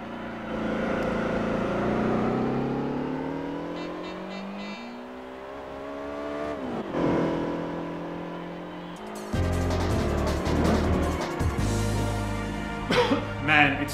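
An old Lotus Esprit in Gran Turismo 4 revving through the gears, its engine note rising and falling through several shifts, then a harsher, louder stretch of engine roar near the end.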